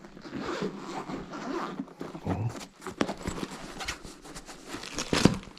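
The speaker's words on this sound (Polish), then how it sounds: "Pokaż pan, to się otwiera. Na suwak jest otwieranie." A zipper is pulled open on a GoPro accessory case, a series of close, scratchy zip runs and tugs with rustling handling noise in between.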